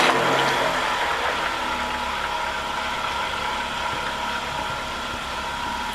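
A router used as a mixer, with speed control, runs continuously, a loud, steady high-pitched motor whine with a buzzing rattle throughout.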